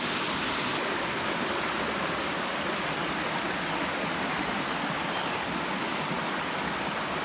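A steady, unbroken roar of rushing water at Dumayaka (Badong) Falls, its flow muddy and chocolate-brown, fills the whole clip with no voices.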